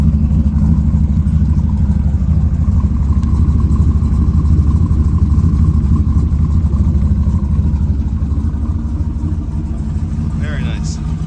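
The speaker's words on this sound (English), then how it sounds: "I can still hear the 2 waste gates leaking a little bit there" A car idles steadily after a below-freezing cold start, a loud continuous low rumble with faint leaking hiss from its two wastegates, and someone talks over it.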